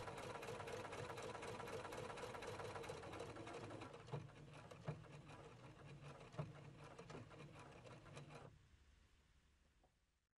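A Husqvarna Viking Platinum Plus sewing machine runs steadily, its needle stitching in a fast, even mechanical chatter with a few soft knocks, before stopping about two seconds before the end.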